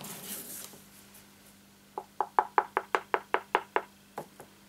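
Card is tapped against a box about ten times in quick succession to knock off excess embossing powder, sharp close knocks in a fast even rhythm after a brief quiet rustle.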